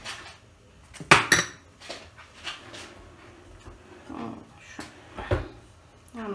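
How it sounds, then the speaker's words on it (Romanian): Ingredients for a savoury dough being mixed in a bowl, with irregular clinks and taps of a utensil against the dish, one burst of sharper clatter, and some soft background noise. "Amestecăm totul bine."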